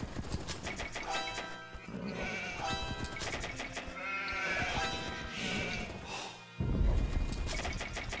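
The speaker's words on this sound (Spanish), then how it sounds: "Pues puta oveja." Sheep bleating in the Age of Empires strategy game, set among dense game sound effects and music, with the bleats fairly loud in a busy mix and no talk over them.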